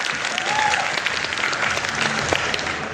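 An audience at a stage play gives the actors steady applause, a dense wash of many hands clapping continuously for the whole stretch, loud and close with a faint murmur of crowd voices.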